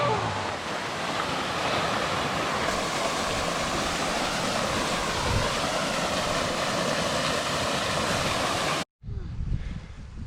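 A hidden waterfall in Northumberland pours in a loud, steady rushing roar with a bit of wind buffeting the mic, cutting out abruptly near the end before a brief muffled return.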